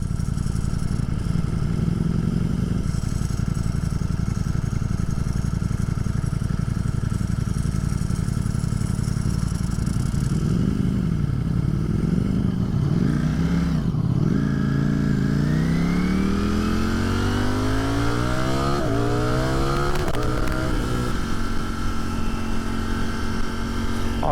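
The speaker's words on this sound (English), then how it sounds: "The clutch is extremely, extremely loud on that bike. I can hear it already from here." Ducati Streetfighter V4 motorcycle engine running loud and continuous, with a rumbling idle that climbs into rising revs in the second half, a rattling clutch clatter mixed into the steady mechanical roar.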